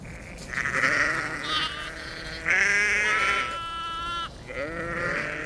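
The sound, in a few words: primitive sheep bleating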